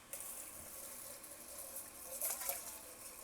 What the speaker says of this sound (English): Put a little bit of water in there.